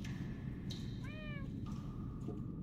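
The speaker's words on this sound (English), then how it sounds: "That almost sounds like... Cats?" Cats meow in Minecraft Story Mode: a short, rising-and-falling mew in the middle with a fainter, thinner call just after, heard over a steady low game rumble with no talking.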